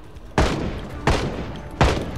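Three loud gunshots in the zombie survival game Project Zomboid, fired evenly about 0.7 seconds apart, each a sharp blast with a booming tail over a low background rumble.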